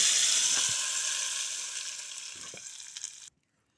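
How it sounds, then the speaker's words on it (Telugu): Dal tempered with dried red chilies, chili seeds and curry leaves for a tender tamarind-leaf toor dal, the hot oil sizzling loudly and steadily at first, then easing off with a few soft stirring clinks before it cuts out abruptly. "పప్పులోకి తాలింపు వేసుకుంటున్నామండి"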